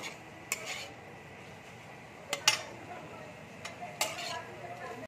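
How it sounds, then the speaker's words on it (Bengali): Potatoes frying with turmeric in a pan and being stirred: a soft, quiet sizzle, broken by several sharp clinks and scrapes of a utensil against the metal pan. "হলুদ দিয়ে ভালো করে ভেজে নেব।"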